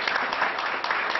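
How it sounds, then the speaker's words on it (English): Two Acadiana families reunited after four years break into clapping together, a dense, fairly loud patter of hands close by, with no talk over it. "We all want to clap, so we're just going to clap."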